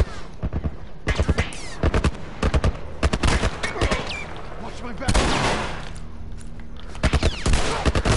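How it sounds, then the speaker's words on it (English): A 12-gauge shotgun fires repeatedly in a video game, sharp loud bursts in quick clusters with brief gaps, and a short stretch of other noise midway. "I'm tired of this 12-gauge shotgun, which would literally kill a person on contact, not doing anything."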